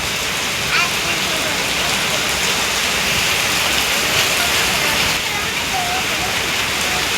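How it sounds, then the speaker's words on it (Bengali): Heavy rain pours down steadily and loudly on surfaces, a dense continuous wash of drops throughout with no pause. "এই যে প্রচুর জোরে বৃষ্টি নামছে"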